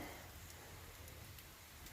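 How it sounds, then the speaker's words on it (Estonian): Soft, steady rain patters outside around a campfire site at Nõmme mill, heard from under a shelter, a faint continuous hiss with occasional drops. "väljas sajab vihma"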